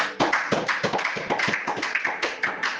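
A church congregation applauding in praise, a quick run of loud, overlapping handclaps that keeps going at a steady pace.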